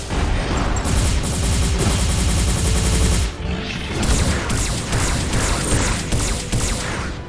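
Missiles launch in rapid, dense volleys in the M.A.S.S. Builder mech combat game, loud booming bursts one after another with a brief gap near the middle, then more salvos crackling on.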